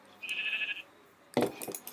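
A sheep in the video game Minecraft gives a short, thin bleat, followed after a brief pause by a second, rougher bleat, fairly faint against a quiet background.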